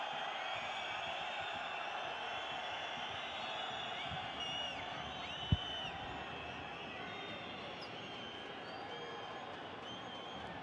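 A home basketball crowd at a Basketball Champions League game, UCAM Murcia against Hapoel Holon, keeps up a loud, steady roar of disapproval over a call, broken once by a single sharp thump midway.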